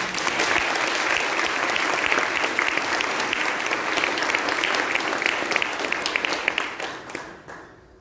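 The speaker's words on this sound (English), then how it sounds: "You deserve another round of applause." Loud, sustained applause from a school assembly audience at a Grade 5 Mother's Day program, many hands clapping evenly for several seconds before tapering off near the end.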